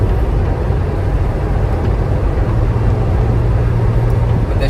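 Ferrari Roma engine running steadily up close from inside the car, a continuous loud low drone with dense road and wind noise throughout, no clear break for a gear change.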